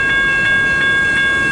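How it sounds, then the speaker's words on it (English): A BCOL freight train passes in Richmond, a steady loud rumble of rolling cars with sustained horn-like tones and faint periodic clicks, and no talking. "So you wanted to come and see the train?"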